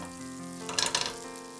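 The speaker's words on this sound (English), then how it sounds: "Add the butter and olive oil to the pan and turn the heat to medium. Swirl the pan and let the butter melt." Butter melting with olive oil in a pan over medium heat, a steady soft sizzle with a brief brighter crackling flare in the middle as the pan is swirled, no talking.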